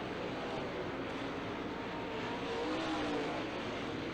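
Late model race cars roar around an oval track at Challenger Raceway during a 2003 A-main, a steady, dense engine drone with no break across the whole stretch.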